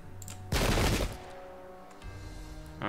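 A musket volley fires in Pike and Shot, an English Civil War battle game set at Adwalton Moor: one loud, crackling burst of massed gunfire lasting about half a second over a steady low game soundtrack.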